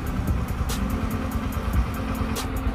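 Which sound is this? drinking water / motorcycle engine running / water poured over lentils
motorcycle engine running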